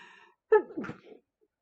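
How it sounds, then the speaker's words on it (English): A single sharp sneeze from the Phoenix Wright: Ace Attorney game bursts out after a brief trailing voice, followed by a short breathy exhale, then quiet. "Oh dear me, I've started the sneezing there."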